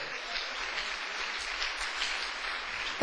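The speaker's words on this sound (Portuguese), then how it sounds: "Outra salva de palmas para o Senhor" A church congregation applauds during a service, a steady soft wash of many hands clapping at a distance, even and continuous for a few seconds.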